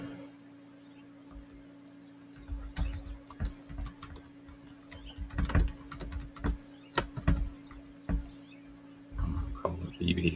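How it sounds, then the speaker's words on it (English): Fingers tap on a Bluetooth keyboard in irregular bursts of close, crisp clicks, with pauses between them and a faint steady hum underneath, while a voice speaks at times. "Now I have my Bluetooth keyboard attached, so it makes it a little bit easier."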